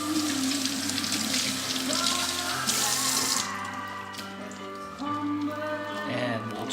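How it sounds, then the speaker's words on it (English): Tap water runs steadily into a sink while green onions are rinsed beneath it, the close hissing stream briefly splashing brighter as the stalks move through the flow, with faint voice and music underneath. "We'll grab the green onions, give it a little rinse."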